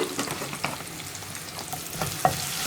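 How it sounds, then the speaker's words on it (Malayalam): Kashmiri chili powder and turmeric fry in a pan while being stirred, a close scraping sizzle with repeated soft spoon strokes and a sharper tap near the end. "ഇനി മുളക് പൊടിയുടെയും മഞ്ഞൾപ്പൊടിയുടെയും റോ ടേസ്റ്റ് മാറി വരുന്നത് വരെ നമ്മളൊന്ന് ഇളക്കി കൊടുക്കുക."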